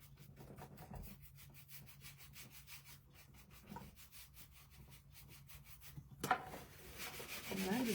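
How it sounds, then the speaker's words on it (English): A cloth buffing wax and clay on a wooden wine box, giving soft, close, repeated rubbing strokes in an even rhythm, followed by a brief louder scrape and handling noise. "I'm just buffing a little bit of it out"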